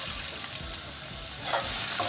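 Chopped garlic and onions sauteing in hot oil in a pan, a loud, dense sizzle close up with a stirring scrape near the end.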